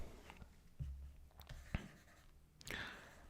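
A lecturer writes on a board in a classroom, with scattered short scratches and taps of chalk or marker spread irregularly over a quiet background, and no talking.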